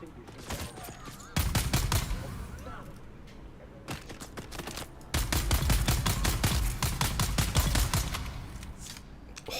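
Rapid automatic gunfire from Dune Awakening in two long, loud bursts of sharp evenly spaced shots, separated by a brief quieter gap, with a voice talking at times.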